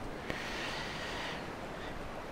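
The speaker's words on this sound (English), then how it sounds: "And I can hear the water." Water and gentle waves lapping a beach in the video game Dear Esther, a faint, steady wash of surf and wind alone with no talk.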